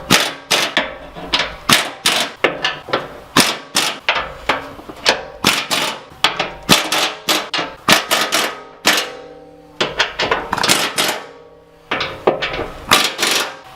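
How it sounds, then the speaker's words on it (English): Impact wrench driving eight bumper bolts on a Ford F250, loud rapid hammering bursts repeating in quick short runs with brief pauses between bolts. "So I'm gonna hit these 8 bolts really fast with the impact."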